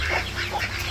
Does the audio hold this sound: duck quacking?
yes